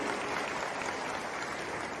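An Assembleia de Deus church congregation applauds, a dense, continuous wash of many hands clapping in a large room at moderate volume, steady without voices.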